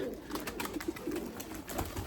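Erzurum white pigeons coo in a steady, low murmur at close range, soft repeated calls overlapping with faint rustling and no talk.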